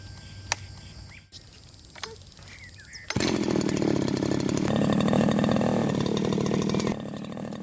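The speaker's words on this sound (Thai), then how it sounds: "เราจะต้องใช้เครื่องตัด" A brush cutter's small two-stroke engine roars in as it cuts overgrowth in a rubber plantation, starting abruptly after a quieter outdoor stretch of birds and insects and holding a loud, steady buzzing whine before easing slightly near the end.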